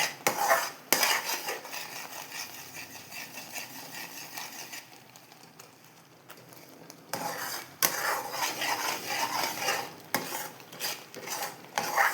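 A spoon scrapes and stirs milk powder and cashew powder around a metal kadai, with repeated clinks and scraping that fade quieter midway, then return louder and steady.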